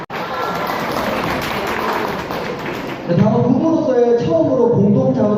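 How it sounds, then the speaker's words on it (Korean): Wedding guests applaud in a wedding hall, a dense, even wash of clapping for about three seconds that gives way to a host speaking with background sound. "네, 박수 부탁드리겠습니다."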